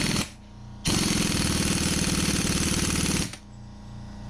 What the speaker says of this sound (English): Alright, so that's all the way tight with the snap-on gun.